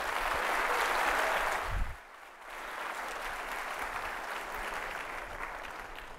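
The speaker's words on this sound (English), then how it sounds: "Give an applause to Marco Pivetta" Audience applause at a PHP developer conference keynote, loud and steady for about two seconds, then a sudden dip before softer, sustained clapping continues to the end.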